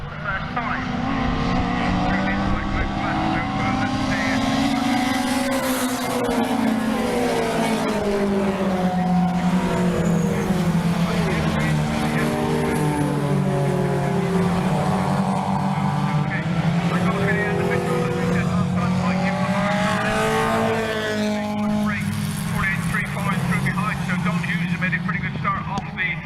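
Race cars, including a Citroen Saxo, taking Quarry Corner, engines droning and shifting pitch as they pass, heard under continuous commentary that runs throughout.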